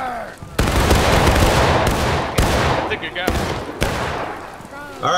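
Rifle volley fired on command, several loud broadband bursts a second or so apart, each sharp report followed by a short rumbling decay, with brief quieter gaps between shots.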